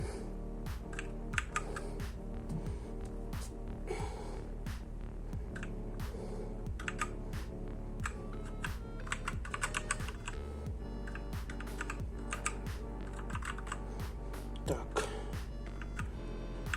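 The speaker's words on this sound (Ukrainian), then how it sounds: "в мене класна клавіатура" Rapid clicky typing on a MACHENIKE K500 B94 mechanical gaming keyboard, dense uneven bursts of sharp keystrokes continuing throughout, close and fairly loud, with faint talk at moments.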